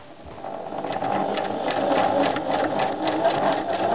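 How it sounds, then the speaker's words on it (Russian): A sewing machine stitches the side seam of a small doll skirt, running as a steady, continuous mechanical whir close by for the whole stretch, with no talking. "Складываем ее лицевой стороной внутрь и прошиваем боковой шов."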